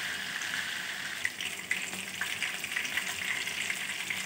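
Chapli kababs frying in a pan give off a steady, moderately loud sizzling hiss that runs continuously with no talking.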